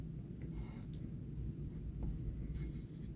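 Pen strokes scratching across a sketchpad while drawing a cube, a soft continuous scraping with brief lighter flicks, close and steady over a low background rumble.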